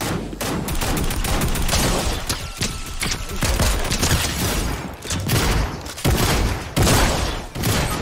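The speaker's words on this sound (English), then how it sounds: "They're shooting me, and I don't even know where." Rapid gunfire in a Fortnite match, dense bursts of overlapping shots and automatic fire crackling continuously at close range, loud throughout with no clear voices.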